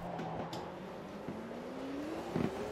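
Race car engine in the sim racing game Automobilista 2 driven with a Fanatec sequential shifter, a steady engine drone whose pitch drops at each upshift, with quick clicks at the gear changes, fairly faint.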